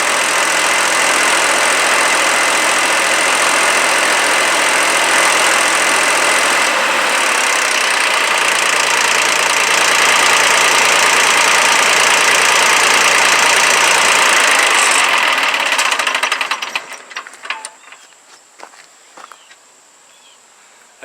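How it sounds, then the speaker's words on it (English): A SmartTrac Jinma 284 Chinese tractor engine runs loud and close with a steady rough diesel clatter, then shuts off near the end, leaving quiet with a few small clicks. "this is the SmartTrac 284 tractor. It's a Chinese tractor."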